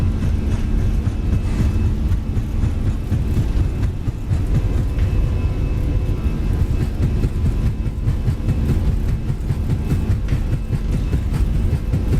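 Fenix A320 jet engines at takeoff thrust in the MSFS flight simulator, a loud, steady broadband roar with a low rumble that holds unbroken throughout, with no talk over it.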